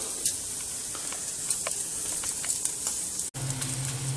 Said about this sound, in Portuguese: Agora mais 5 minutinhos, aí eu vou deixar as postas em pé para dourar a gordura, pra gordura ficar bem assadinha.